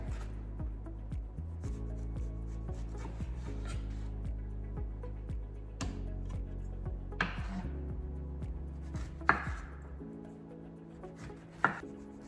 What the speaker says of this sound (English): I'm just gonna peel these with a knife